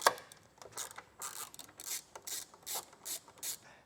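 A hand tool ratchets out T15 screws on a 2025 Chevrolet during a trailer hitch installation, giving quiet, close bursts of rapid clicking in a steady, repeated rhythm with no talking.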